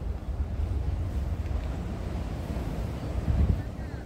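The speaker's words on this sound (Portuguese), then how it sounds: "As ondas estão vindo aqui em cima e tá tudo bem mesmo." Ocean waves surge and crash against the breakwater at the Molhe da Barra jetty in Itajaí, a steady wind-blown rumble with a heavier thud near the end, close and fairly loud.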